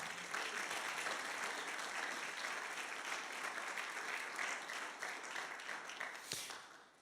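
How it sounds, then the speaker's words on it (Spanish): Church congregation applauding in praise to Jesus, a steady, full round of clapping across a large room that continues for several seconds and softens slightly toward the end. "¿Cuántos pueden darle un aplauso de gloria a Jesús?"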